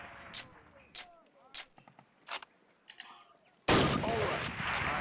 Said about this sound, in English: Now fire 2 rounds at your target while aiming down your sight.